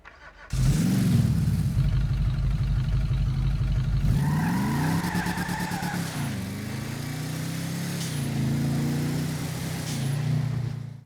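A Burger Shot Stallion muscle car in GTA V roars loudly up close, its engine revving hard and shifting pitch as it accelerates, with no talk over it.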